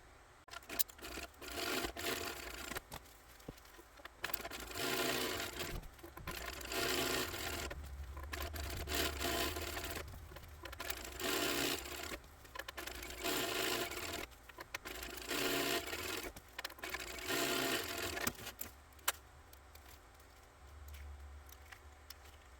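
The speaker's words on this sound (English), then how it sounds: "So we're going to first just top stitch the tops of these to just make them look finished." Sewing machine top stitching the edges of a fabric mini wallet, close and steady in several long runs separated by short pauses, each burst a continuous rasping whir.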